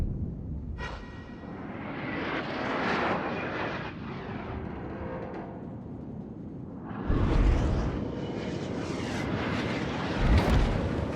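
Heavy naval guns boom from the battleship Alabama in a naval combat game, a loud sustained rumble with sharp blasts near 1 and 7 seconds and a rolling roar between them.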